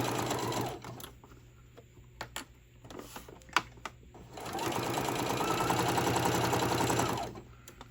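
A sewing machine stitches fabric for a lined tote bag, running in short stop-start bursts and then a steady, even whir for several seconds, fairly close and clear, with no talking.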